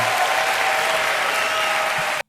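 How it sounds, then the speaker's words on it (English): Sustained, dense applause from a live comedy audience fills the space at a steady loud level, then stops abruptly. "I'm gonna cut off that applause. That's loud."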